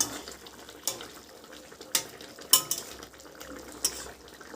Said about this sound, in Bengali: এবার আমি ঢাকনাটা খুলে দিচ্ছি